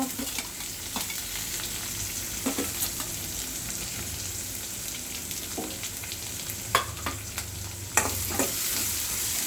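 Green chillies, peanuts and tomato roast in hot oil with a continuous soft crackling sizzle, broken by occasional clicks and scrapes of a spoon stirring against the pan.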